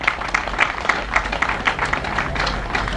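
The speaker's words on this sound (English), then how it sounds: "Give them a round of applause, please." Crowd applause at an agricultural open day opening ceremony in Nevis, steady rapid clapping from many hands filling the space at moderate loudness for about three seconds.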